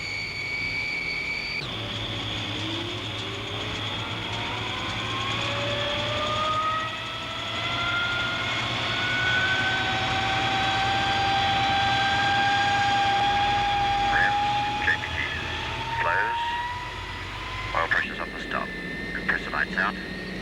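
The port engine of a 1969 Fokker F27 Friendship starts up, its turboprop whine rising steadily in pitch over a constant low drone, heard loud from the cockpit with intermittent clicks near the end.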